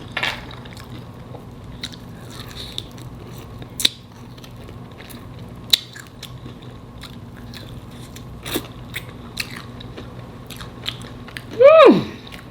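Close-up eating of fried ribs, mac and cheese, sauteed squash and steamed broccoli, with soft scattered bites, chewing and crunchy clicks against quiet room background, ending in a short voiced hum of enjoyment.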